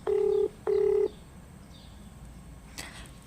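Two long touch-tone dialing beeps, each about half a second, sound close and clear, followed by near silence and a faint click as a call to a clothing wholesaler begins.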